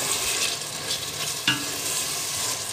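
Purslane cooking Congolese style in a pot, giving a steady close sizzle and frying hiss with a brief louder clank or stir partway through, no talking.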